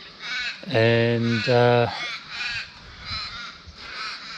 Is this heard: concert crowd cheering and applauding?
no